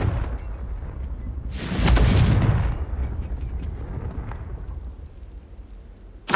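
A Confringo blasting spell bursts in Hogwarts Legacy, one loud rumbling explosion swelling for about a second, then fading into lingering crackle over ambient game sound, with a sharp hit at the very end.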